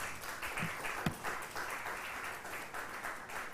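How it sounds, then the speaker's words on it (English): Audience clapping at a foundation event, a dense, even wash of hands held at a moderate, slightly distant level, with one louder clap standing out near the middle. "Let's clap better."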